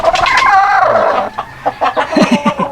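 A rooster crows loudly up close, its long drawn-out call followed by a run of short clucks from nearby Brahma chickens.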